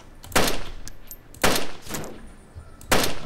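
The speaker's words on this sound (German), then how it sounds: "wo kommen die ganzen Schüsse her?" Three loud bursts of gunfire in the video game DayZ ring out at regular intervals, each followed by a softer echoing tail, over a low background rumble.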